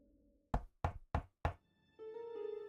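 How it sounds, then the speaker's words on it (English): Four soft, evenly spaced knocks on a door at night, close and distinct, with a quiet room hum before them and a low tonal hum rising afterward. "we heard it, a soft knock at the door."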